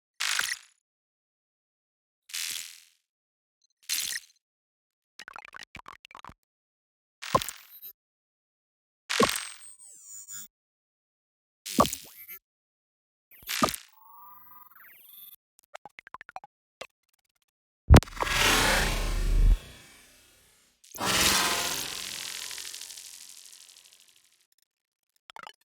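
Short synthetic interface sound effects with grainy, smeared textures play one after another, a string of separate chirps, clicks and swept tones followed by two longer, denser washes near the end, all clean with no talking.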